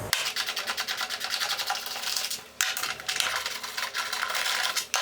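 Close metallic rattling and ratcheting as 12 mm bolts are loosened on a scooter, in rapid repeated clicks with a short break midway and no talk.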